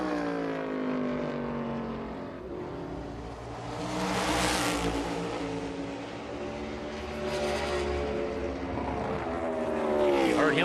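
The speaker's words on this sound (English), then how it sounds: "You heard him in the rev limiter." A NASCAR race car at practice and qualifying for the 2022 Federated Auto Parts 400 roars past, its engine screaming in loud high-revving surges that rise, dip and climb again, bouncing off the rev limiter.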